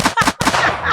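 Rapid burst of loud, close gunshot sound effects, three or four punchy blasts in under a second, with no talk over them.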